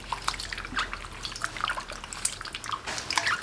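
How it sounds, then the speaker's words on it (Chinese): Loaches being scrubbed by hand in a basin of warm salted water, with soft splashes, drips and trickles in an irregular rhythm, close and fairly quiet throughout. "倒入温水，下手抓洗，把泥鳅身上的粘液给洗干净"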